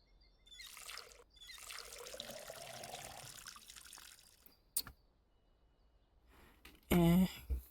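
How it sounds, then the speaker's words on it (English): A water bucket fills in the Schedule I video game, with a soft, steady trickle and pour of liquid running for several seconds, followed by a brief louder splash near the end. "let's fill up our water bucket"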